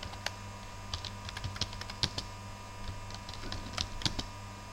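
Typing on a computer keyboard while writing HTML code, with quick irregular soft key taps close to the microphone over a faint steady hum.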